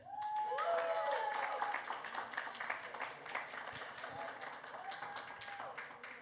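A convention crowd at a comic con panel claps steadily, a fairly faint spread of hand claps under a voice and cheering that carry across the whole stretch.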